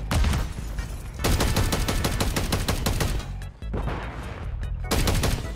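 Rapid bursts of automatic gunfire in Call of Duty: Modern Warfare 3, loud and close, coming in long dense volleys with a few short pauses between them.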